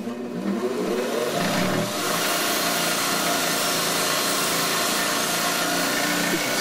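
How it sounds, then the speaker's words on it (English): A wire wheel spins on a bench grinder while it polishes metal, giving a loud, continuous, harsh hiss and whir that holds steady throughout. "This is a wire wheel on a bench grinder."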